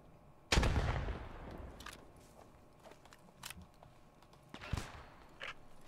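Gunfire in a World War II Post Scriptum battle: one loud close shot followed by a decaying tail, then sharper distant cracks and a second strong report near the end, with no voices.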